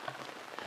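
Heavy rain pours over a village, a dense, steady hiss of drops pattering on surfaces with no voices, brief and fairly quiet.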